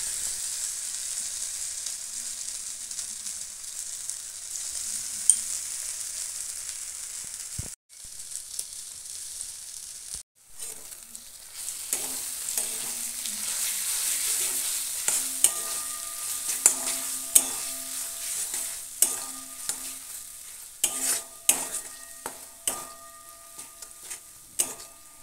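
A paste of cashew, coconut, ginger and green chili fries in a pan, a steady bright sizzle that flares up and then gives way to stirring with repeated ticks and scrapes.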